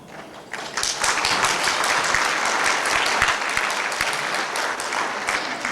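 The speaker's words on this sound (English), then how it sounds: "That really is an applause for yourselves" Dinner guests at an eye-camp fundraising dinner break into applause, a dense, fairly close round of many hands clapping that builds quickly and stays loud and steady throughout.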